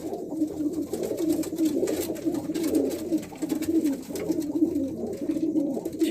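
A pair of Dobaz breeder pigeons cooing steadily, soft low rolling coos repeating throughout at close range with faint background noise and no speech.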